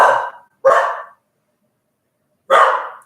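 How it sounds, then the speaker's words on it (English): A puppy barks three times, sharp and close: two quick barks near the start, a pause of about a second and a half, then a third. "My puppy is skittish right at the moment."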